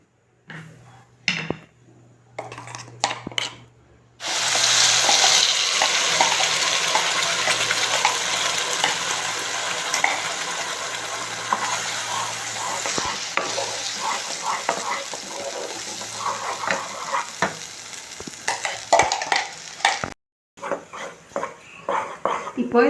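Finely ground coconut fries in ghee for a traditional sweet, a steady loud sizzle starting after a few quiet seconds with small clinks, lasting about fifteen seconds before a brief cut and renewed frying.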